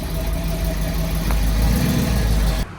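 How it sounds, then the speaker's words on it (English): A 1969 Pontiac Firebird with a 350 engine rumbles steadily and loudly close by, a deep low drone that holds for a few seconds and then cuts off abruptly. "that was a beautiful 69 Firebird that Mr. Wilson put together"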